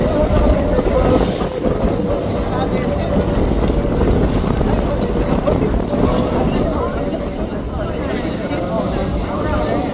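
Tour boat with three engines running on a river outing, a steady loud broadband drone with wind buffeting, continuous throughout.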